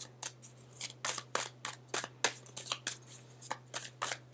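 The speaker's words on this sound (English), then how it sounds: "I'm going to shuffle them really well, and they shuffle pretty well as well." Crisp, papery riffling of a deck of trimmed tarot cards being shuffled, repeated quick bursts in a steady rhythm, close up with no talking.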